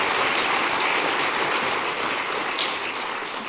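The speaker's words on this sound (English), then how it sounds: "Give them a round of applause for that." An audience at a public conversation event claps steadily throughout, a dense, loud wash of applause that tapers slightly toward the end.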